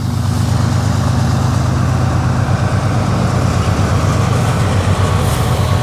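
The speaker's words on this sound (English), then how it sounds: "Look at the train. It's really loud." A loud, slow-moving train rumbles steadily past close by along the Erie Canal, a heavy low roar with a faint rhythmic clatter of wheels, continuous and unbroken.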